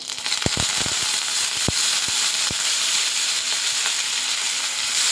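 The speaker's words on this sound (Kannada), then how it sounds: "ಎಣ್ಣೆ ಬಿಸಿಯಾಗಿದೆ. ಇದಕ್ಕೆ ಸ್ವಲ್ಪ ಸಾಸಿವೆ, ಇದು ಹಿಂಗು" Mustard seeds, hing and curry leaves sizzle and crackle in hot oil for sambar, with steady frying hiss and scattered sharp pops from bursting seeds, close and fairly loud.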